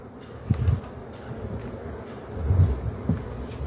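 A low, steady buzz of many honey bees hums close by at an open hive during queen rearing, swelling slightly in a couple of places against light wind noise.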